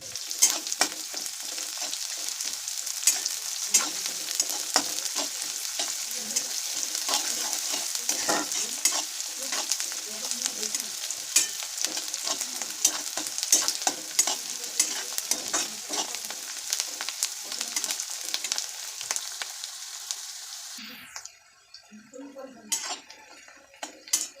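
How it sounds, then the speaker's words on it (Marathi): Chopped onion frying with garlic and chillies in a pan, a loud continuous sizzle with frequent stirring scrapes that drops away near the end. "तर आता आपण याच्यामध्ये कट केलेला कांदा टाकून देऊ आणि तो पण चांगल्या पद्धतीने मिक्स करून आणि चांगला फ्राय करून घेऊ"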